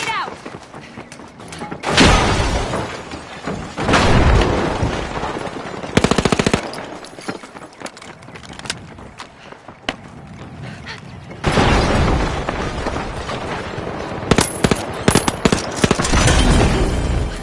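Gunfire and a frag grenade blast in the shooter game The Finals, with loud bursts of automatic fire, heavy impacts and explosions filling the mix while a voice talks over the action.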